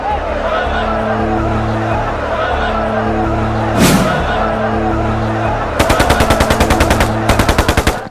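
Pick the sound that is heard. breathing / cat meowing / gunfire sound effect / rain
gunfire sound effect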